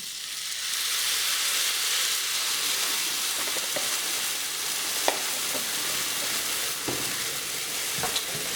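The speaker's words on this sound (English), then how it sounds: "I'm just going to keep this on a high heat, let it boil, let the gnocchi get nice and soft." Gnocchi cook in milk sauce on high heat, giving a loud, steady, close hiss and sizzle with a few faint clicks of stirring, and no talk throughout.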